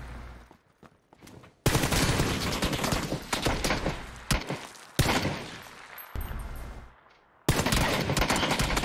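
Rapid bursts of automatic gunfire from a PUBG firefight ring out loud and close, with several sustained volleys separated by short pauses and brief quiet gaps.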